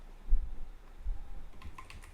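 Keys clatter on a computer keyboard as code is entered for an SAP ABAP AMDP scalar function, a few soft taps early on and then a quicker, denser run of close keystrokes toward the end.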